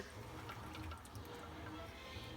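Melted clarified butter, golden and liquid, poured from a pan through a cheesecloth while making ghee; a steady soft trickling pour runs throughout, close and continuous with no talk.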